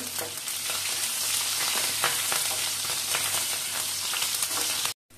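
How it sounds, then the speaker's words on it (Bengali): Green chillies and panch phoron fry hard in hot oil with a loud, steady, dense sizzle and scattered crackles, cutting off abruptly near the end. "কাঁচা লঙ্কাটা তেলের উপরে দিলাম। গরম তেলে কাঁচা লঙ্কা দিলে গন্ধটা ভালো আসে। একটু ভেজে নিচ্ছি লাল লাল করে।"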